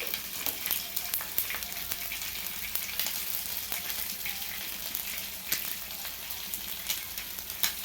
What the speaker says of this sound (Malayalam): ചിക്കൻ വറുത്തുകൊണ്ടിരിക്കുകയാണ്